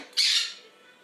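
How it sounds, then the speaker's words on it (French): Pet birds kept near a kitchen give one sharp, loud squawk at close range, then fade to quiet. "Vraiment désolée pour les oiseaux"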